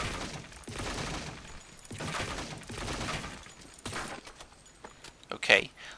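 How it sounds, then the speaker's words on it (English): Short three-round bursts from an AK Gold rifle in the shooter game Blackshot repeat several times, with a commentator talking between them. "let's try a 3-shot burst"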